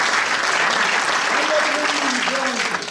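A theatre troupe's gathering applauds loudly and steadily. A voice or two carries faintly beneath the full, continuous clapping.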